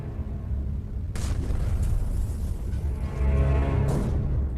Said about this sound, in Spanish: El chapoteo de proyectiles retumba en el casco.